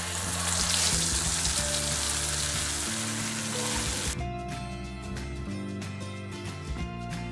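Cashews, tomato and watermelon seeds sizzle and fry in a pan used for chicken masala, a loud continuous crackle, joined partway through by a steadier hissing with some stirring clatter; no one speaks.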